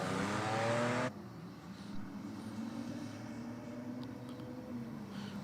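A Nissan Navara and a Nissan Skyline race side by side, their engines roaring loudly for the first second before settling into a steady, slightly distant drone.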